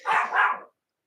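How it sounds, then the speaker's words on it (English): A dog barks in an indoor home setting, giving two quick close barks in a row that end abruptly, with no talking over them. "sorry about my dog"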